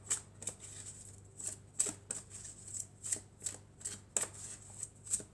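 An angels-and-crystals oracle card deck is shuffled by hand, about a dozen soft, rhythmic riffling bursts, quiet and close, with no speech.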